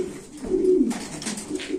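Pigeons coo in low, throaty bursts, one louder swell in the middle, with faint rustling and background noise around them.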